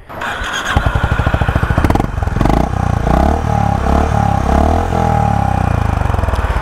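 Honda H'ness CB350 motorcycle engine starting and settling into a steady, loud idle, with a rhythmic low thump running throughout and no talk.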